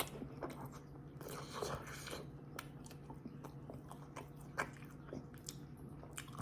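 Close, quiet chewing of Samyang Buldak spicy fire noodles, soft wet bites and crunches repeating irregularly with a faint background hum and no speech.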